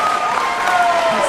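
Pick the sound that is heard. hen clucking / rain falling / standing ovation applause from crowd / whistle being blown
standing ovation applause from crowd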